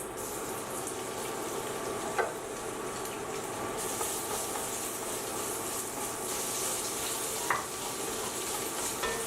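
Garlic frying in rendered bacon fat in a saucepan, a steady close sizzle with a faint clatter of stirring and a couple of sharp utensil knocks, no talking.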